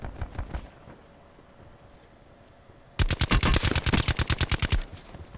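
Gunfire in the first-person shooter Call of Duty: Black Ops 4, a few distant pops early, then after a quiet pause a loud, rapid automatic burst lasting about two seconds.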